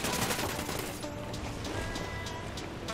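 Rapid automatic gunfire in the shooter game Ghost Recon Wildlands, a dense sustained burst of shots rattling close and loud for several seconds with no talking.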